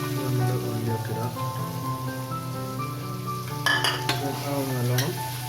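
Onions frying in a pan for Kerala-style chicken biryani, a soft, even sizzle with a brief clatter of stirring partway through, set under background music.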